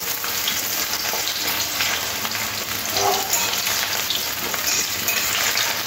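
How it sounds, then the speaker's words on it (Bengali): Diced potatoes fry in hot oil, a dense, even sizzle that holds loud and close for the whole stretch, with faint stirring clinks and no voices. "এবার এই গরম তেলের মধ্যে আলুগুলো দিয়ে ভেজে নিতে হবে"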